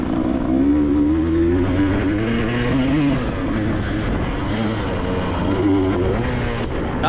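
A 2-stroke dirt bike racing through sand at a fun pit revs hard and holds the throttle open, a loud, close, continuous engine drone with rising and falling pitch through the whole stretch.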